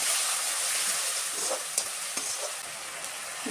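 A paste of ginger, garlic, onion, cumin and green chili fries in a pan with a steady, close sizzle and a few soft stirring scrapes.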